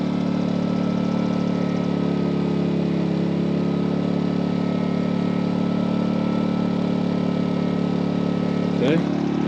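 A MaxPeedingRods 3200-watt inverter generator runs steadily at close range, a continuous even engine drone with no pauses, and a brief higher whine near the end.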